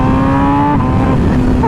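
MV Agusta Brutale 2023 motorcycle engine at high revs above 7,000 rpm, a loud steady tonal scream held close throughout with a slight pitch shift midway, alone without talk.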